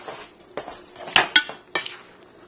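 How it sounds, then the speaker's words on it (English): A spoon clinks and scrapes against a pot while stirring a thick chocolate peanut butter mixture that is catching slightly on the bottom: a few sharp knocks and rattles over quiet, without speech. "I'm going to mix this all together. It's starting to burn a little bit on the bottom. Okay, and I got a different spoon to mix it together."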